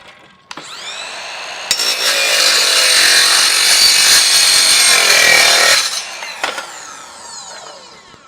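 A Ryobi 18V cordless miter saw fitted with a Diablo Steel Demon blade cuts through 1-inch steel tubing: the motor spins up, then a loud, sustained, grinding metallic whine for several seconds before it winds down, close and without talk.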